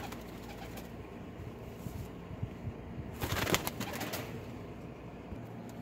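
Baby Commando-breed pigeons give soft cheeping calls amid rustling and wing flutters, with a busier flurry of movement in the middle.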